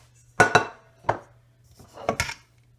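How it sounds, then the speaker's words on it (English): Stainless steel sauté pans, an 8-inch and a 10.5-inch, clank as they are handled in a kitchen, with two quick close metallic knocks, a single clatter, then another pair of knocks, nearby and alone. "The saute pans are by inches."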